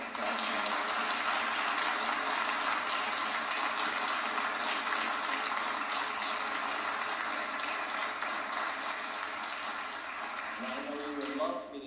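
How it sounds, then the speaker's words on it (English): A hall audience at a music competition applauds in a sustained, dense wash of clapping that holds steady for several seconds before tapering, with a voice surfacing near the end. "how about a round of applause?"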